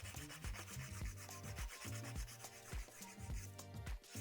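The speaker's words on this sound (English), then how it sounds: "You could even use just the normal 240 grit file." An acrylic gel nail being filed with a 240 grit file gives quick, close, rhythmic rasping strokes that repeat steadily and sit faint against background music.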